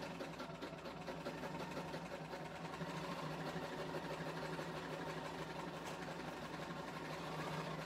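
A Bernina sewing machine running steadily in free-motion mode while couching yarn, a continuous faint mechanical whir and rapid stitching hum with no pauses.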